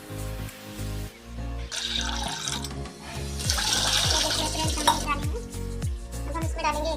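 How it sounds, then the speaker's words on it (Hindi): Water pouring into a large pot for gulab jamun sugar syrup, a steady rushing gush with rising gurgling tones as the vessel fills, close and loud and continuing throughout. "ये 2 लीटर पानी हम इसमें डाले हैं।"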